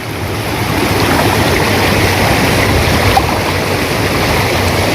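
Village river water rushes and gurgles steadily around someone wading barefoot, a loud, close, unbroken flow with no voices.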